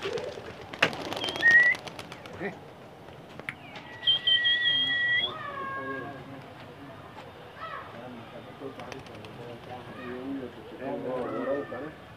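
Pigeons, including Grizzle and colored breeds, coo and other birds chirp and whistle outdoors while a voice talks intermittently in the background.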